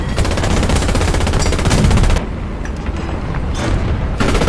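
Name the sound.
machine gun fire in War Thunder video game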